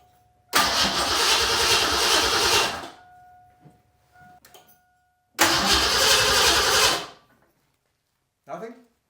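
A Ford Fox-body Mustang engine cranks twice without catching, each burst of starter churning lasting a few seconds and loud and close, separated by quiet gaps with faint clicks.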